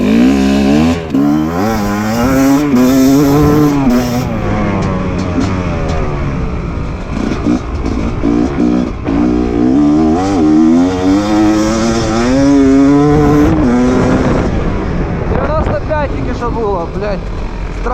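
A Fantic XE 300 enduro motorcycle in fifth gear with a 13-tooth sprocket on a hard enduro trail in Kyiv: the engine revs loud and close, its pitch rising and falling in repeated surges, with a voice talking over part of it.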